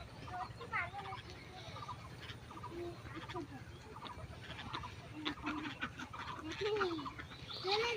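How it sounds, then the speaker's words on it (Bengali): Ducks call in a group nearby with short, repeated quacking honks scattered over a low background hum, fairly faint overall. "এই হাঁসগুলো অনেক সুন্দর, কিউট না?"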